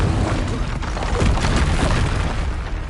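A Confringo spell explosion in a Harry Potter video game, a loud, sustained booming blast filling the whole moment.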